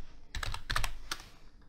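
Code is typed on a computer keyboard in a short burst of quick, close key clicks, spaced irregularly with brief pauses and no talking.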